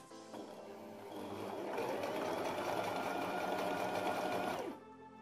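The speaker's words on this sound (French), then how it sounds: "je vais coudre en laissant avancer régulièrement le tissu" Sewing machine stitching lingerie elastic onto fabric, a steady continuous whirr that builds and holds for several seconds before stopping abruptly near the end, close and alone.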